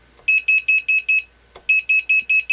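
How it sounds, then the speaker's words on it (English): A hobby low-voltage alarm buzzer for a battery pack blares in loud, shrill pulses: five quick beeps, a brief pause with a click, then five more, piercing and close. "That buzzer is plenty loud to hear from quite a distance."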